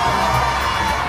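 Audience at the Mister Supranational 2023 pageant top-ten announcement screaming and cheering, a loud dense wall of crowd shouts and whoops sustained throughout.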